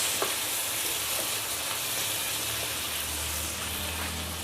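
Tomato and aromatics are stirred in a frying pan, giving a steady close sizzle with soft scraping and a few faint clinks, continuous and without talk.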